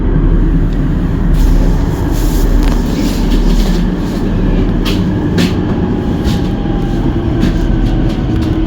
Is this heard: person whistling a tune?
no